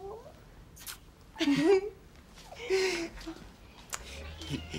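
A small kitten meows a few times at close range, short high cries spaced apart with quiet gaps and faint background noise between them.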